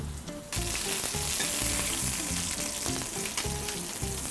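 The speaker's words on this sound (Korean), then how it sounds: "어느 정도 열이 올라오면 스테이크 넣어줘요" Steak sears in a hot pan with a loud, steady sizzle that jumps in abruptly after a quieter start and crackles continuously throughout, with occasional stirring clatter and no talking.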